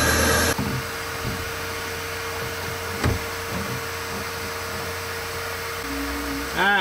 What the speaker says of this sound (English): I just found out you can change your oil using a shop vac